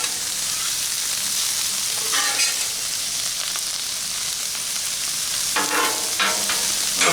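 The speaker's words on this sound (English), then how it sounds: "I'm just going to kind of intermingle all these beautiful colors of these peppers with the onions." Peppers and onions sizzle on a Blackstone griddle in a steady, close, crackling hiss. Brief scraping stirs of a spatula come at intervals, with no talking.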